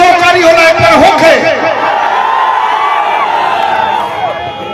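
A crowd at a Bhojpuri stage show roars a response together, a loud, drawn-out group shout that starts sharply and slowly fades.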